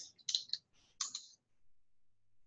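Quick, light clicks from typing an Excel formula on a computer keyboard come in two short bursts, then quiet.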